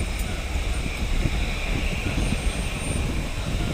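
A steady airplane engine drones as the aircraft taxis into position, a continuous broadband roar with no speech over it.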